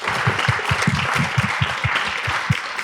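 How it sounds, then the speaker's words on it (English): Audience applause at an evening legislative panel discussion on immigration, a steady wash of clapping with sharp individual claps standing out, fairly close and continuous throughout. "maybe one more quick round of applause for these incredible folks"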